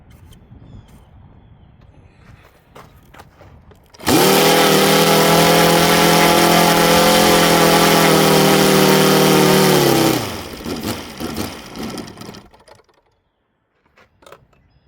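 OS FR300 radial model engine during a break-in run, starting abruptly and holding a loud, steady high-pitched buzz for about six seconds before cutting off, followed by quieter handling noises.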